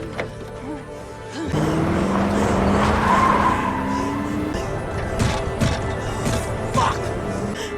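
A car peels away with tires squealing in a long rising skid over a loud revving engine, then the engine roars on with rattles and bumps.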